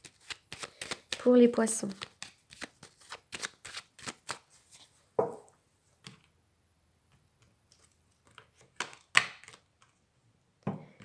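A tarot deck is shuffled and cut by hand in quick rhythmic riffles and soft card slaps, close and crisp, with a voice speaking intermittently over it.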